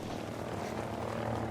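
A helicopter in the video game Ghost Recon Breakpoint gives a continuous, fairly loud rotor and engine drone lasting the whole short moment.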